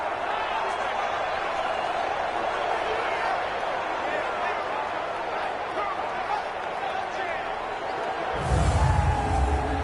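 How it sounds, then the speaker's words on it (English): A football crowd roars inside a domed stadium as a steady, dense wash of noise under a commentator's voice, swelling louder near the end. "The crowd here in the Dome making things difficult."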